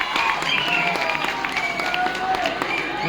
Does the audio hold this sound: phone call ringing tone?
no